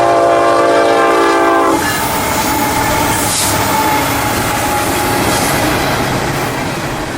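FEC freight train 222 passing at Sebastian, Florida, opening with a loud blaring horn that cuts off, then the roar and rhythmic clatter of cars rolling past close by.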